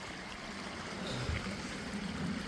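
A steady rushing wash of river water flows continuously, with a faint low gurgle partway through, moderately loud and close.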